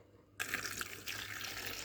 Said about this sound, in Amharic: የሞቀ ውሃ ማለት ነው፣ የፈላ ውሃ እንደዚህ እንጨምርበታለን።